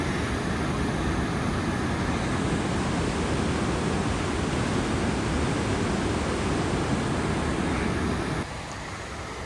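Glacial river water rushes beneath a bridge on the Wonderland Trail, a loud, unbroken roaring wash that holds steady before dropping abruptly to a softer level near the end.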